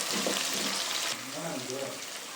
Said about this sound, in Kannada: ಸೊ ಇದೊಂದು 2 ಮಿನಿಟ್ಸ್ ಇವಾಗ ಎಣ್ಣೆನ ಫ್ರೈ ಆಗಲಿ